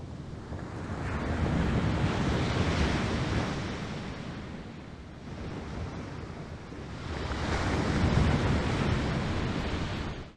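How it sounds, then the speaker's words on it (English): The breathing sound of the Onryō (Sadako), a killer in the video game Dead by Daylight, made from ocean waves: a continuous wash of surf that swells, eases and swells again, alone and without voices. "Her breathing noise is literally just the sound of waves."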